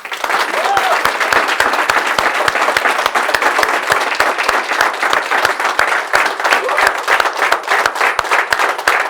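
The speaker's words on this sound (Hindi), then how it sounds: "आप सबकी जोरदार तालियों के साथ हम स्वागत करेंगे IAS अभिषेक सिंह का" An audience claps loudly and steadily to welcome IAS officer Abhishek Singh onstage. The close, dense applause carries on evenly for several seconds with a faint voice underneath.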